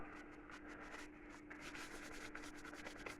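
Steady, faint rubbing and scrubbing on old brass after a week soaked in cheap cola, a continuous dry friction noise close up with slight rhythmic strokes and no speech.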